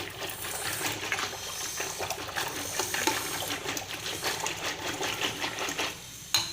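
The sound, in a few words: water poured into mashed dal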